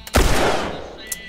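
Gunfire bursts from The Last of Us game combat: a loud, close shot opens into a dense rolling burst that tails off, with one more faint crack near the end.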